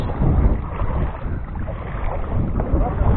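Strong sea wind buffeting the microphone in a continuous low roar on a fishing trip in Lucena, with a faint murmur of voices and water beneath.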